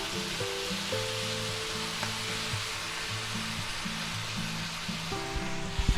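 A soy sauce mixture hits a hot pan of chicken and celery stir fry, setting off a loud, continuous sizzle and hiss that holds steady throughout, with background music underneath.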